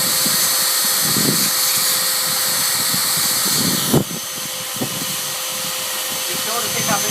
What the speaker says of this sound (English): Using your shop vac or air compressor, remove as much debris as you can from the orifice of the air intake